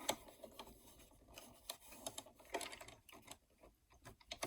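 Sewing machine stitching a hem along the top edge of a fabric pocket for a gift bag, a quiet, steady mechanical whir with light ticking, alone and fairly faint.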